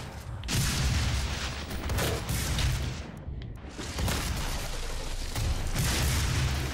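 Booming shotgun blasts in Doom SnapMap, a loud dense barrage of gunfire and explosions with a brief lull in the middle before the firing resumes.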